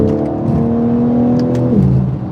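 A car engine revving hard, a loud, close, rising whine that holds its pitch, then drops sharply near the end as the gear changes, with no voices over it.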